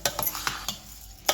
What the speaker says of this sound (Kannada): ಚೆನ್ನಾಗಿ ತಿರುವಾಡಿ